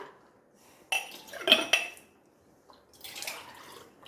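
A spoon stirring watermelon juice in a glass, a few sharp clinks and scrapes of metal against glass in quick bursts, with a softer clinking round near the end, close and quiet.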